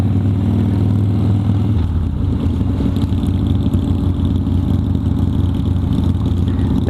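A loud engine runs steadily and close by, its rough rumble shifting slightly in pitch as it is revved.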